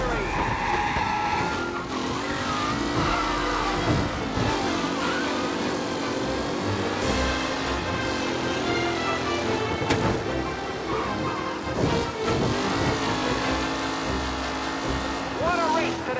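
Race cars roar around a track in Mafia Definitive Edition, engines loud and sustained with tire squeals, under a commentator's continuous talk.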